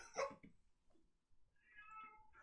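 A cat meows a couple of times, the first call near and clear and a softer, higher mew following about a second later, with no talk over it.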